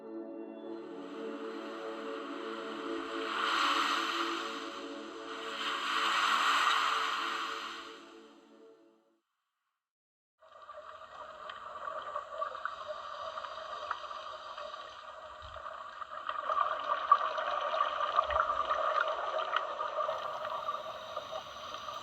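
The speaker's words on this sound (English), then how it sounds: "some lovely audio Tasneem sent us of waves on the shore and what it sounds like scuba diving underwater" Ocean waves surge in two rolling swells at the shore, then after a brief silence comes the muffled underwater world of scuba diving, with a steady bubbling hiss and low thumps.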